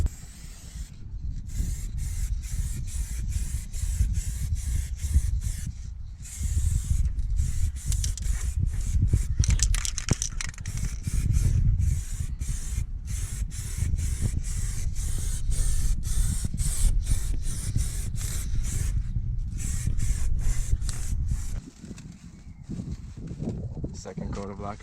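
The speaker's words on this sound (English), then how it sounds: "Second coat of lacquer is done." Aerosol clear coat lacquer sprayed onto brake calipers being painted fluorescent yellow, a steady close hiss in long bursts with brief gaps between passes.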